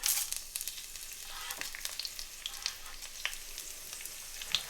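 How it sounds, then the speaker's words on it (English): Chopped dry red chilies sizzle in leftover aubergine-frying oil for a tadka, close crackling and popping with sharp spits scattered over a steady hiss, and stirring sounds mixed in. "It's leftover oil from frying aubergine, so I'll use that for tadka. So the chopped 3 dry red chilies."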